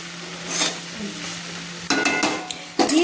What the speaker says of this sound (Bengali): দিয়ে ভালো করে আমি নেড়ে নিচ্ছি